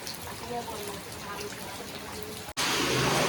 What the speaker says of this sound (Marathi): पाऊस खूप जास्त आहे